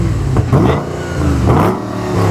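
A car engine in a workshop revving as the accelerator is pressed, two or three loud rising surges that fall back between presses, close and alone.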